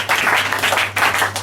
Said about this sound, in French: Est-ce qu'on peut acclamer pour le premier?